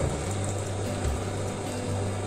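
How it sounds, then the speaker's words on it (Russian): Boiling water poured from a freshly boiled kettle over raisins in a kitchen, a steady continuous splashing gush heard close and alone for a couple of seconds. "Я буквально ошпариваю"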